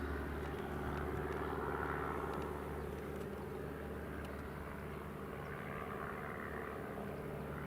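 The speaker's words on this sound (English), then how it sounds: "Eurowings A319 is taxiing." A Eurowings Airbus A319 airliner taxis at Newcastle International Airport, its engines giving a steady, distant low roar and whine that holds evenly throughout with no other sounds on top.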